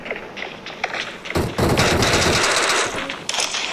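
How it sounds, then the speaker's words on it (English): Automatic gunfire rattles in the Free Fire battleground mobile game, quiet at first and then a loud, sustained burst of rapid shots that runs on for a couple of seconds before easing slightly. "Who's shooting?"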